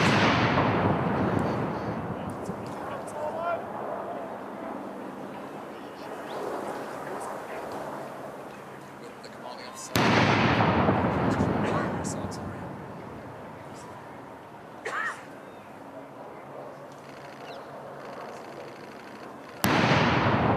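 Ceremonial artillery gun salute firing blanks in Hyde Park, London, for the Queen's Platinum Jubilee; three loud booming blasts roughly ten seconds apart, each rolling away in a long decay over crowd murmur and voices.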